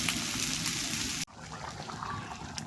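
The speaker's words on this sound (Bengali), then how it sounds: "ভালো করে কষিয়ে এখন জল দিয়ে দেবো" Water pours into a pan of potato and papaya curry, a steady, close rushing splash that cuts off abruptly, leaving a quieter sizzling bubble afterward with no voice.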